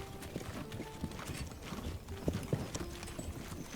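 A draft horse's hooves clip-clop faintly along a road in the medieval village game Manor Lords, an irregular quiet clatter mixed with light creaking and background ambience; no talk.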